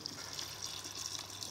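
Warm liquid at about 65 degrees is poured over eggs Benedict, giving a soft, continuous trickling gush that stays quiet and even throughout, with no talking.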